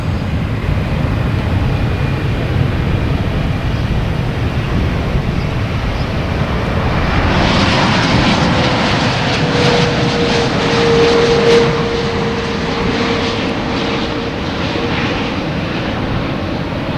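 A jet taking off at Boston Logan Airport, a steady loud engine roar that swells midway and holds with a rising whine, heard continuously with no talk.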